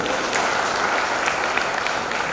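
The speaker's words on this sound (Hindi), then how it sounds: "इसी ताई के लिए ताली बजना चाहिए।" Sustained audience applause at a memorial event in Indore honouring Devi Ahilya on her death anniversary, a steady dense clapping that fills the whole stretch without pause.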